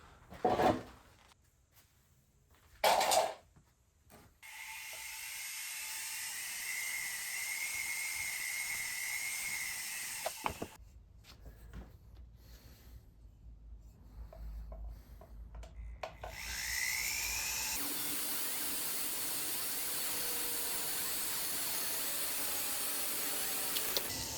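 A flex shaft rotary tool polishing a pewter candlestick during restoration: a steady motor whine with rubbing friction that stops briefly and restarts, ending in a louder, harsher run, with a few short knocks at the start.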